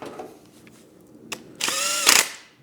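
A power tool fitted with an 8mm socket tightens a bolt on a 2-into-1 low exhaust on a Speed Twin 1200 motorcycle: a soft click, then one short close whining burst that winds down.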